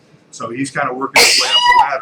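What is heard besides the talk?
loud sneeze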